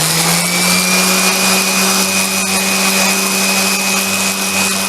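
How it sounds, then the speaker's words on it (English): A random orbit sander works on an oak kitchen chair part, giving a loud, steady motor whine with a droning hum that runs unbroken from start to finish, with no talking. "I think the best way to round this thing up is using a random orbit sander"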